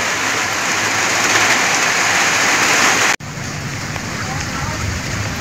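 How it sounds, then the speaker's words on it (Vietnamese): Heavy rain pours down at a riverside fishing spot, a dense, loud, steady hiss with a brief cut partway through before the downpour continues unchanged. "trời vẫn mưa ầm ầm"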